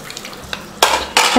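Two short bursts of water splash into a pot of tamarind curry (kulambu), loud and close, after a few faint clinks.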